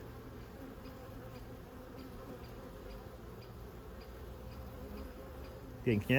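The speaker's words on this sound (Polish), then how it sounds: "Tak jak widać pszczoły ładnie noszą pyłek dzisiaj." A soft, steady hum of honeybees buzzing at a hive while carrying pollen, with faint ticking in the background; a voice speaks briefly at the very end.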